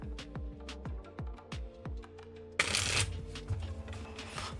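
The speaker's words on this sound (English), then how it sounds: "Final shuffle." Tarot cards being shuffled by hand: a string of quick separate card snaps and taps, then a dense, close riffling rush of cards.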